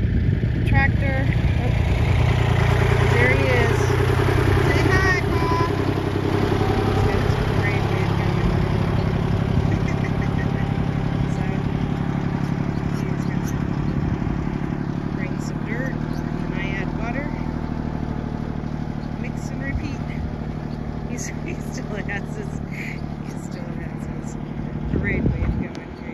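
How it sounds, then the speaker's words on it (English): A tractor engine runs steadily at a moderate distance on a rural driveway, its low drone continuing throughout while a person talks over it. "Tractor."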